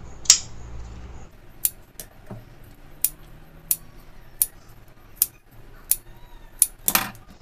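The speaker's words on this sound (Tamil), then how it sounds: "இப்போ இது என்ன செய்யணும்னா இந்த மாதிரி குட்டி குட்டியாக வந்து கட் பண்ணிவிடுவோம்." Scissors make small, sharp snips into the fabric of a cotton saree border for a blouse, about ten crisp cuts spaced roughly evenly and heard close up with near silence between them.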